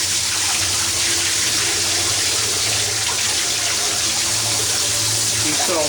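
Rinse water pouring steadily out of a bucket used for black Procion reactive dyeing of jeans, a loud, continuous splashing gush that stays close.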